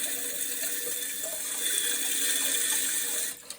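A steady, close hiss of water spraying from a Tushy bidet attachment, a continuous stream that runs for a few seconds before easing off.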